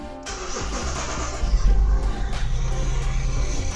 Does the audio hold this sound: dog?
no